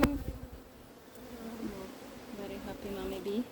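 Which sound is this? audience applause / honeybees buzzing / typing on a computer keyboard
honeybees buzzing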